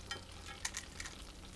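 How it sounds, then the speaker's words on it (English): Butter melts in a frying pan with an 18-centimetre base, ready for pancakes, giving a faint, steady sizzle with a few soft scraping stirs close by. "I'm melting my butter in a frying pan"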